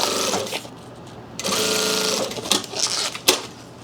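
A sewing machine stitches through backpack fabric in short close bursts, rapid mechanical rattling that stops and restarts as it reverses to back tack, with clicks between runs.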